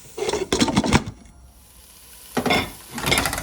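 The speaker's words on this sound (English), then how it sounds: "So I'm just giving a bit of stir in between." Onions being stirred in a cooking pan for a Punjabi aloo baingan sabji, heard as two close bursts of scraping and clattering utensil strokes over a soft sizzle, with a quiet pause between them.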